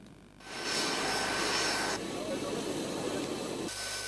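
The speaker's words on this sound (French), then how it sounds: "C'est aux environs de 8h20 que l'avion du Premier ministre ivoirien Daniel Kabla-Duncan a atterri à l'aéroport international de Ouagadougou." Airliner of the Ivorian prime minister arriving at Ouagadougou international airport, a loud broad jet roar rising after a quiet start and holding steady, then easing slightly, with voices faintly mixed in.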